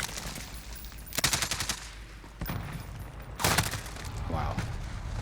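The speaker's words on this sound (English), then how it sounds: "Where are you shooting at, guy?" Gunfire in a video game comes in short bursts of rapid shots, fairly faint and distant, separated by quieter stretches of ambient game noise.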